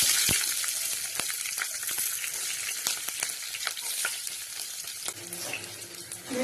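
Onions, chilies, mustard and fenugreek seeds frying in oil in a kadai on a stove, a loud steady sizzle with scattered sharp pops and crackles, close up and without talk.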